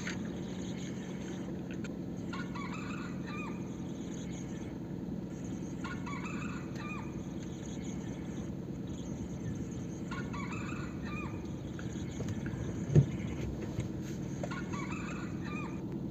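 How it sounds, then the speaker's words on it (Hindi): Several wild junglefowl crow at a distance, repeating at intervals over steady background hum, with one sharp knock near the end. "ये देखिए आवाज आ रही है जंगली मुर्गे की।"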